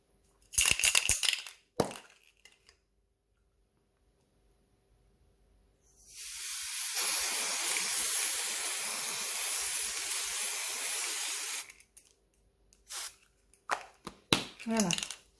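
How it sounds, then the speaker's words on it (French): A glitter spray can gives one steady hissing burst of about six seconds, loud and close, with brief handling clatter before and after. "je vais utiliser ma bombe de paillettes"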